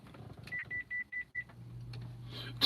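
A phone gives a run of five short, evenly spaced electronic beeps at close range, followed by a low hum and a brief clatter.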